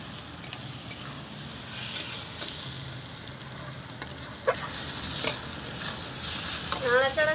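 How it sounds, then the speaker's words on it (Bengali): Chopped tomatoes stirred into chicken in a hot frying pan, a steady sizzle with scraping stir strokes and a few sharp spatula clicks near the end. "দুটো টমেটো আমি কুচি করে রেখেছিলাম এটা দিয়ে দিলাম ভালো করে এখন মিশিয়ে নিচ্ছি"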